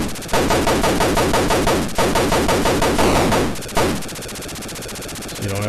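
The cannon in the Atari 2600 game Defender fires continuously: a harsh, rapid electronic buzzing rattle that keeps going with a few brief breaks and shifts in tone.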